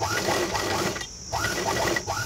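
Sewing machine stitching a boat neck blouse, running in steady bursts of rapid mechanical whirring with a brief pause in the middle, close and moderately loud.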